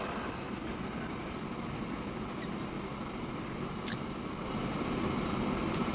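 A wheat freight train runs in the Transport Fever 2 video game, a steady low rumble of rolling rail cars with a couple of faint clicks near the end.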